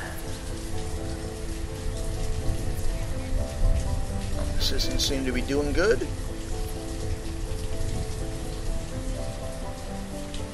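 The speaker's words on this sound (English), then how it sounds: "raining again." Steady rain patters in the village-building game Banished, a soft continuous hiss beneath someone talking briefly.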